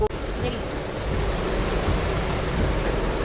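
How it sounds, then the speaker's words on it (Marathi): Heavy rain pours steadily in a dense, close wash of noise, heard from inside a moving car. "पाऊस पाऊस पाऊस"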